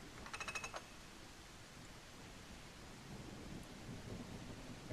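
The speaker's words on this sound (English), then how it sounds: "And it's raining." Steady rain hiss with low rumbling thunder in a railroad video game, continuous and moderately quiet, with a short burst of sharper crackle near the start and no talking.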